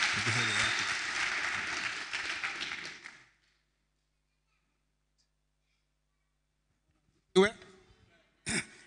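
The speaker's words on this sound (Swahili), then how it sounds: "Karibu sana kwa makofi" A church congregation applauds to welcome the senior elder, a few seconds of steady clapping that stops abruptly into silence, followed later by two brief bursts of sound.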